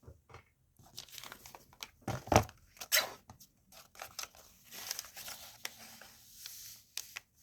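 Paper is trimmed to height for a grungy mini junk journal: scattered crisp snips, crinkles and short tearing rustles come in uneven bursts, fairly close and moderately quiet, with no talking.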